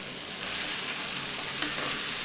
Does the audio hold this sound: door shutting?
no